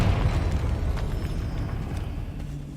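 A Confringo blasting spell goes off in a video game as one deep, rumbling explosion. It starts loud and fades slowly into a low roar over a few seconds.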